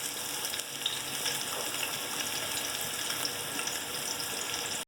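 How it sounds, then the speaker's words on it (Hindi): Sliced onions frying in hot oil for beef biryani give a steady, even sizzle throughout, close and moderately loud with no voices. "अब मैं इसके अंदर प्याज ऐड कर दूँगी।"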